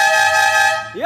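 A Jeep Renegade fitted with a triple vegetable-seller horn and a marine air horn lets out a loud, sustained multi-tone blast. It ends in a short rising and falling melodic toot, heard close with no voices over it.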